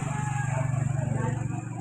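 A household electric water pump motor in a home in Tondo, Manila, running with a steady, continuous low hum and a faint rattling buzz, close by and alone.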